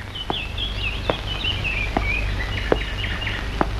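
A nightingale sings a continuous, bright warbling song of quick trills and whistles, with a few faint taps underneath.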